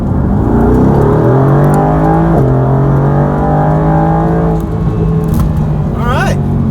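A 2020 Mercedes-AMG GT R twin-turbo sports car accelerates hard, engine note climbing loud and close through rising revs with a brief gear change, while someone talks over it.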